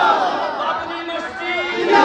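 A large crowd at a religious gathering chants back in unison in reply to a Naara-e-Takbir call, a loud sustained roar of many voices that swells toward the end.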